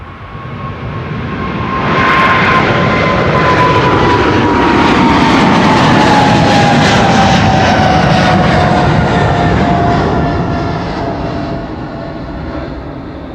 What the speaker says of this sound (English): This is KLM Flight 605 to San Francisco,